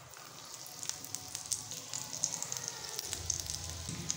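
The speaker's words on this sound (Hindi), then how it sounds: "इसी तरह हम दूसरे भी फ्राई कर लेंगे।" Potato and egg roll kababs sizzle softly in hot oil, a steady quiet crackle dotted with sharp little pops, with no talking.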